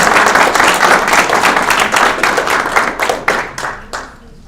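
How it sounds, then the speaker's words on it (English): An audience in a school presentation room claps for a student, dense loud applause that holds steady and then thins into a few last scattered claps before fading out. "How about a round of applause?"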